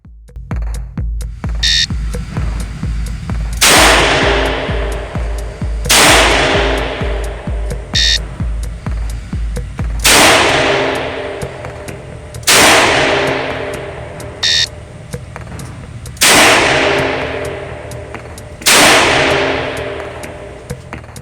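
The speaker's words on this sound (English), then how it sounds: "On command, fire 2 rounds in 3 seconds, assume the ready position." A Colt MKV Trooper revolver fires repeatedly at a shooting range, about eight loud, sharp cracks with ringing decays spaced a couple of seconds apart, plus a few short electronic beeps.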